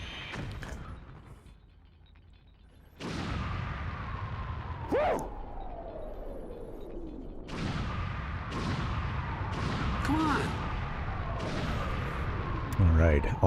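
Explosions and gunfire in the Japanese version of Star Fox 64 (1997), a run of sharp booming blasts and crackling bursts over continuous game sound, with a voice talking at times.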